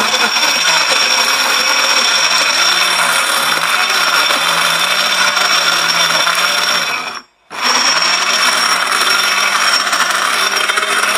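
Powerful mixer grinder milling wheat grains into flour, a loud, steady high-pitched whirring drone that cuts out briefly for a moment then starts again at full strength.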